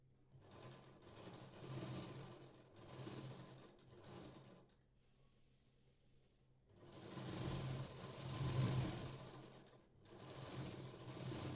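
A sewing machine stitches the sleeve of a katori blouse in bursts of fast, close whirring, pausing briefly between runs with a longer quiet gap midway.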